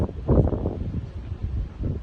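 Strong cold-season wind sweeps across the Nong Han lakeside near Sakon Nakhon, buffeting the microphone with a low, gusty rumble that swells and fades continuously.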